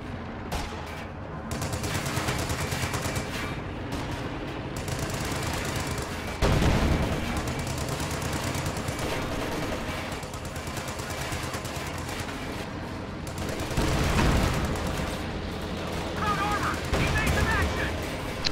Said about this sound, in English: Those Oberstaffdaten are going to get shredded by LMGs